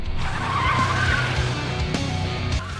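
A car tearing away at speed during an action-film escape, tyres skidding and squealing over a loud revving engine, close and intense throughout.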